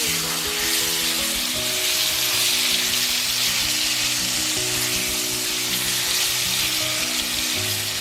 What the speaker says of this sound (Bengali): তেল যখন কিছুটা গরম হয়ে আসবে তখন চিকেনের মিশ্রণটা তেলের মধ্যে দিয়ে দিলাম।